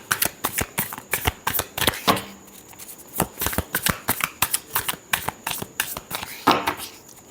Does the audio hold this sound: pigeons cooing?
no